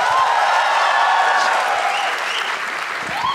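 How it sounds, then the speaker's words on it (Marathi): A comedy-club audience at a Marathi stand-up show bursts into loud, sustained applause, dense clapping with a few cheers that tapers slightly toward the end. "एकदा पुन्हा एकदा टाळ्या वाजवा सगळे"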